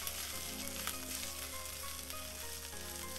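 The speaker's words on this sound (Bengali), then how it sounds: "আমি নাড়াচাড়া দিচ্ছি" Boiled beef, cooked with garam masala, salt and ginger-garlic paste, sizzles and fries in a pan for Korean-style corn chowmein, a steady close crackle with light stirring scrapes and no voices.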